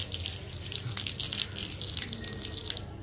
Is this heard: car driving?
no